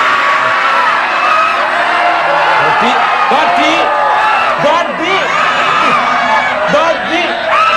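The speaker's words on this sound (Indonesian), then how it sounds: "Lu teriakannya histeris banget." Studio audience at an Indonesian TV talk show breaking into loud, sustained screams, whoops and yells, a dense crowd roar running throughout with bursts of shrieking.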